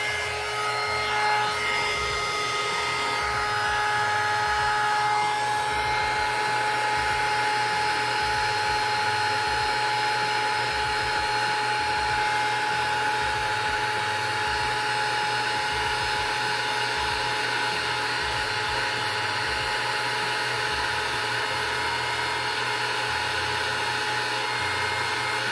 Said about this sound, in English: let's start to heat gun this one